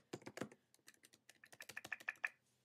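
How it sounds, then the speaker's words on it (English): Quick bursts of key presses on a Mac keyboard while typing in TextEdit, a run of light, close clicks and taps, faint and alone with no talking. "and type down what you want to say"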